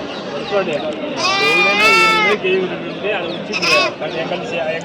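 Goats bleat loudly and close by at a goat market in Kadiri, several wavering calls overlapping, with people talking around them.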